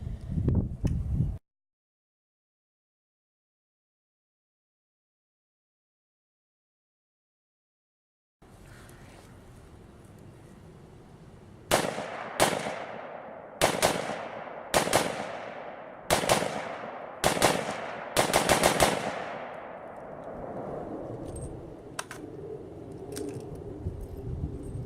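Seven sharp, loud shots ring out from a custom short-barreled AR-15 rifle chambered in 300 AAC Blackout at an outdoor test shoot, fired in a quick irregular string after a brief gap of silence, each crack trailing off with echo.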